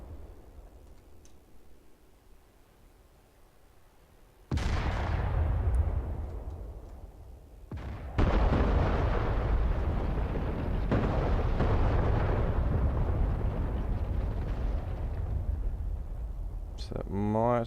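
Artillery firing at a friendly airfield in the DCS A-10C flight simulator game, sudden heavy booms at about four and eight seconds followed by sustained rumbling roar, with a low background hum before the first blast.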